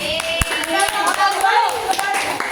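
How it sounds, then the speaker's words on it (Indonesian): A small group of students claps hands in a brief burst of rapid, uneven applause indoors, with voices chattering over it. "Wildan, tepuk tangan."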